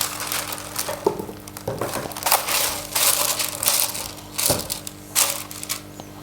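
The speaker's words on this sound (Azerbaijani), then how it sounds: "Mən daha uzun olsun deyə yağlı kağızdan istifadə edirəm." Baking paper crackles and crumples as it is handled and pressed into a pan for a wheeled dome-oven barbecue setup, with a run of close, dry crinkling bursts and no talking.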